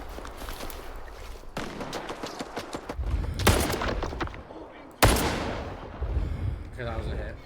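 Gunfire in the video game S.T.A.L.K.E.R. 2, several loud sharp shots and short bursts with sudden onsets, separated by quieter stretches, heard close, with a voice talking around them.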